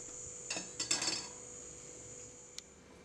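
A spoon scrapes and clinks against a pan while colostrum milk is stirred and thickened into a sweet dish. Several quick metallic scrapes cluster early, followed by one sharp clink, close and alone over a steady background hiss.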